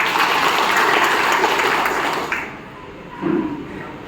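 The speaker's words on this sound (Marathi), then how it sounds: "त्यांच्याकरता जोरदार टाळ्या होत्या" A crowd at a community gathering claps loudly for about two seconds, then the applause fades away, leaving a brief quieter tail with a faint clink.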